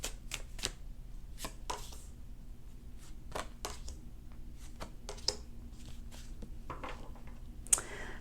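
Tarot cards are drawn from a deck and laid out one at a time, producing a quiet series of soft card snaps, slides and taps with brief shuffling rustles, close and gentle, with no voices.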